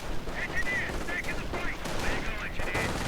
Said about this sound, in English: an MG42 setting up.